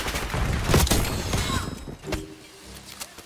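Gunfire in Call of Duty: Black Ops 6, a burst of rapid close shots and impacts in the first second, followed by scattered mechanical clicks and a single later shot as the action thins out.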